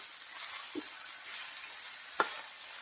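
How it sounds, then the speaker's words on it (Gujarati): Green onion with garlic, Kashmiri chili, turmeric, salt and crushed coriander-cumin sautéing in oil: a faint, steady sizzle broken by a couple of soft spoon-stir clicks, with no talking. "2 મિનિટ જેવું ડુંગળીને આવી રીતે તેલના અંદર મસાલા જોડે સાંતળી લેવાની છે."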